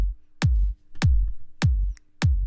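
A reggae dancehall kick drum with parallel compression blended in, struck four times at an even, steady pace. Each hit is a deep, punchy thump with a short decaying tail, heard clean and alone.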